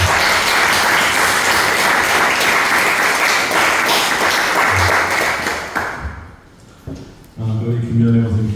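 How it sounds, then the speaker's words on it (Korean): An audience claps steadily for several seconds after a request to thank parents at a wedding-related gathering, then the applause fades and a voice begins speaking over a quieter room. "우리 수고하셨다고 박수 한번 쳐주세요"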